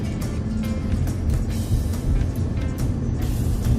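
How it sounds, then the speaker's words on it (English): A loud truck rumbles steadily nearby on a road with a deep, constant roar and a droning whine that fills the whole clip without letting up. "This truck next to me sounds like a freaking jet plane or something."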